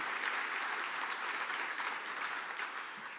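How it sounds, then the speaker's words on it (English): At a Georgia Faith & Freedom legislative luncheon, the crowd gives sustained, even applause, a dense wash of clapping heard from a distance that fades slightly toward the end. "Let's give them a round of applause."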